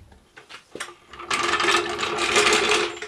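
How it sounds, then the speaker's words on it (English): A car jack being lowered beneath a VW Golf Mk4 during a wheel change, giving a short clunk followed by a steady, fairly loud grinding and whirring release that runs continuously to the end with no voices. "Remove the axle stand and then slowly lower the jack."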